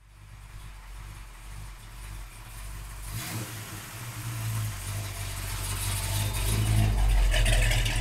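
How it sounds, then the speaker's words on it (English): A 1968 Plymouth GTX with a brand-new 440 V8 rumbles through its exhaust, idling low and then building into a louder, throatier rev toward the end, close and steady with no talk. "Brand new 440 under the hood, running great, sounding great. The exhaust system on the car is amazing, and it's got an awesome sound to it."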